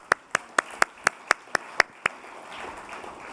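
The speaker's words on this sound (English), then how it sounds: "So that deserves clapping." Nine sharp, evenly spaced hand claps from a single person at a lecture, loud and close, then fading into a low diffuse room murmur with a few scattered claps.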